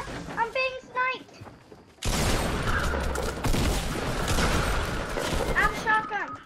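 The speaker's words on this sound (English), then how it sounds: "I'm being sniped." Gunfire in an online shooter game: a dense, loud burst of shots and reports fills most of the clip after a sudden onset, with brief speech before and after.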